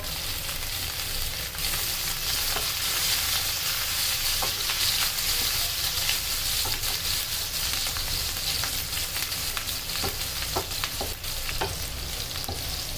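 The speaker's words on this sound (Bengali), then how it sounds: "এখন দিয়ে দেব রসুন কুচিগুলো।" Chopped garlic and onion sizzle in hot oil for a kochur loti with shrimp curry, a loud, steady frying hiss with scattered crackles and occasional stirring throughout, no voices.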